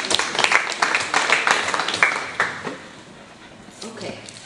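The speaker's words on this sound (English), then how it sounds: "So I think we really need to give Doa a round of applause." Audience applause for a speaker at a talks event, a burst of clapping that fades out over a few seconds, with speech mixed in.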